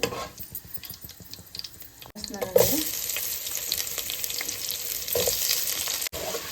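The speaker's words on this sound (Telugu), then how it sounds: "బ్రౌన్ కలర్ వచ్చే వరకు ఫ్రై చేసుకోవాలి" Onions frying in a pan for prawn biryani, a loud sizzle that swells partway through and carries on with occasional stirring clatter, and no talking.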